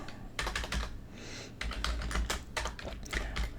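Quick bursts of typing on a computer keyboard as a channel name is entered, close and fairly quiet, in two or three clustered runs separated by a short pause.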